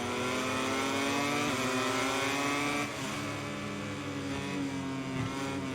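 A Honda MotoGP bike engine in the MotoGP 22 racing game revs loud and close, a continuous high-pitched whine that climbs, dips slightly as the rider shifts, then keeps pulling with no voices over it.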